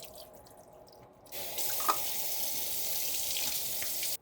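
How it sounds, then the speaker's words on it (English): Canned beans drained and rinsed in a can strainer under a running kitchen tap, a steady close water rush that starts abruptly after a quieter moment and continues with light splashing. "We're gonna go ahead and drain these and rinse them"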